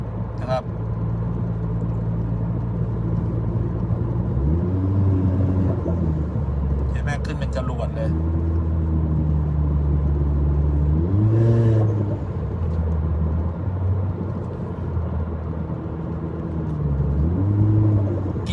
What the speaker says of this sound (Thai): กดประมาณ ครึ่งคันเร่ง แล้วดูเข็มความเร็วมันกวาดนะครับ